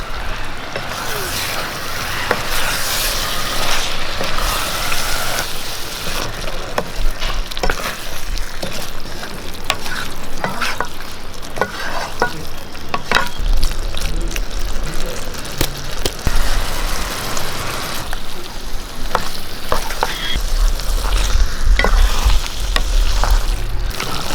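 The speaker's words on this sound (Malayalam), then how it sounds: "ഇതിലേക്ക് നമുക്ക് സോയ ഇട്ട് കൊടുക്കാം നമുക്ക് ഇളക്കി കൊടുക്കാം" Soya chunks are stirred in a frying pan for a soya roast, with loud continuous sizzling and repeated scraping, knocking strokes of the spoon against the pan, close and busy throughout.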